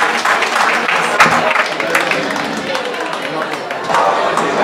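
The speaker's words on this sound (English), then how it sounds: "I'm going to have a last big applause" Large audience applauding at the close of a film premiere Q&A, dense sustained clapping with cheering and crowd chatter, loud and continuous throughout.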